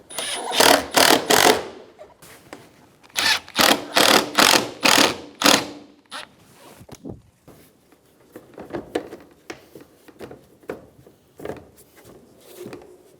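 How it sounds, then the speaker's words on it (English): Mechanical ratcheting and clicking bursts as Phillips head screws are driven into the bumper cover of a 2013-2017 Honda Accord, in two loud clusters followed by softer scattered clicks and rattles, with no talking. "Install your Phillips head screws."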